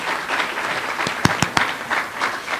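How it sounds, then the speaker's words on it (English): Conference audience applauding, steady crowd clapping with a few sharp, close individual claps standing out midway, moderately loud throughout. "please give a big applause to all these wonderful people"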